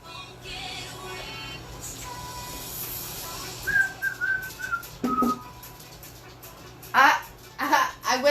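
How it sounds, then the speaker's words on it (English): A person whistles short, uneven melodic phrases at a Friday night paint party where daisies are being painted, mixed with background chatter and room noise. "I whistle about as good as I sing."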